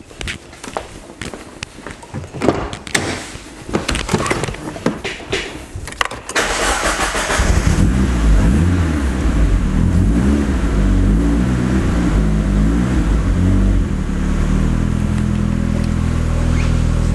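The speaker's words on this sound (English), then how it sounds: "I'll do a cold start right now and run it a bit" A turbocharged Mazda Miata on a Hydra EMS cold-starts close by: a few seconds of fiddling and cranking, then the engine catches and settles into a loud, steady, slightly lumpy idle that runs on alone.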